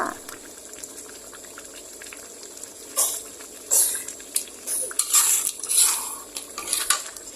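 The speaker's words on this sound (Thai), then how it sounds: "จากนั้นปรุงรสเพิ่มด้วยน้ำมันหอยค่ะ ค่อยๆ คนอย่างเบามือนะคะเพราะปลาสุกแล้ว" Stingray stir-fried with oyster sauce is stirred gently in a pan, with soft bubbling beneath and intermittent clinks and scrapes of a utensil against the pan in the second half.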